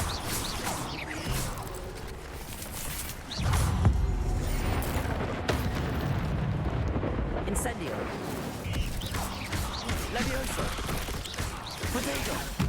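An Incendio fire spell is cast in the video game Hogwarts Legacy, a rumbling fiery burst flaring up partway through amid ongoing game noise, with voices heard.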